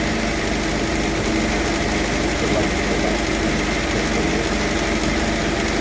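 A 1954 Ford Popular 103E engine with a fault idles steadily and fairly loud, a continuous rough mechanical hum with no voices over it.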